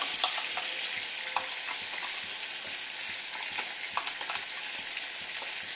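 Ridge gourd stirred as it fries in a pan: a continuous close sizzle with scattered light clicks and scrapes from the spatula, and no voices.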